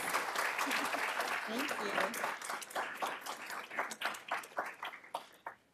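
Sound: audience applause for research associates

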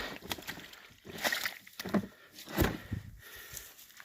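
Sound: watering a tree with water from the catch

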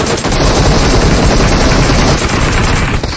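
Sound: gunfire in video game PUBG Mobile

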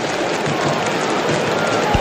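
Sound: stadium crowd applauding a football goal

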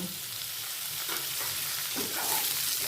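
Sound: onion and tomato frying in a pan on medium flame

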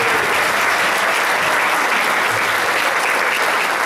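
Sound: audience applause

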